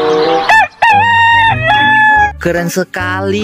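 An electronic toy rooster crows loudly and close by, giving a long cock-a-doodle-doo followed by a shorter second call, while a person speaks briefly over it and music plays underneath.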